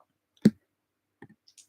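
Percentile dice tumble during a tabletop campaign: one sharp clack on the table, then a few lighter, quieter clicks as they settle, with no voices.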